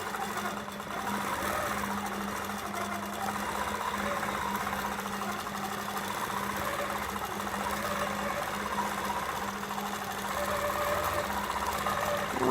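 Long-arm quilting machine from the Grace Company stitching a quilt, a steady continuous mechanical hum and rapid needle rattle running unbroken throughout, close and moderately loud with no talking.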